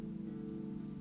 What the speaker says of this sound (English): This is the sound of rain on asphalt, on roof shingles, on the broad, flat leaves of the rhododendron beside the window